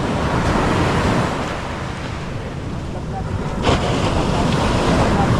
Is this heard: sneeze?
no